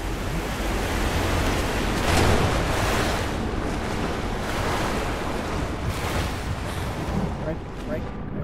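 Loud, steady rushing of water fills a scene in the video game Rise of the Tomb Raider, a dense, unbroken wash that swells slightly near the start and never stops.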